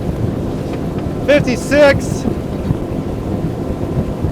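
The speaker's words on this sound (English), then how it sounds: "wide open throttle, see what this 250 Dauntless can do with that 400 horsepower Mercury V10 outboard" A Boston Whaler 250 Dauntless, a 25-foot center console, running at wide open throttle on a single 400-horsepower Mercury V10 outboard, with a steady roar and heavy wind buffeting; a voice briefly calls out.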